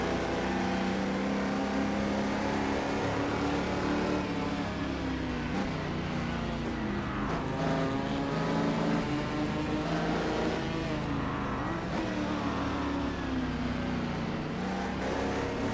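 A Chaparral 2D race car in a racing game, its engine roaring steadily and loud as the throttle rises and falls through the corners, continuous throughout with no talk.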